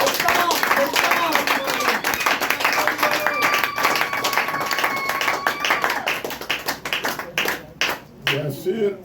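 Crowd applause at a political party gathering, rapid overlapping claps with voices and singing mixed in, fairly loud and close, thinning toward the end.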